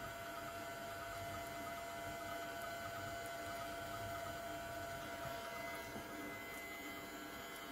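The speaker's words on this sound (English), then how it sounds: "I've turned on the stirring." A magnetic stirrer hums steadily and quietly under a flask during sodium ethoxide preparation, a constant faint whir with a mains-like drone and no talking.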